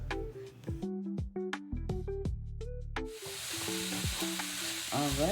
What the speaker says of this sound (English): you can just stir that right into that mixture and continue to cook it and ground it until it's brown